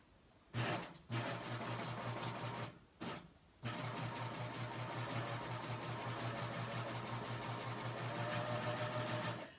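A serger stitches slowly along wired ribbon, its motor humming in fairly quiet runs. Two short pauses break the sewing early on, and then it stitches steadily.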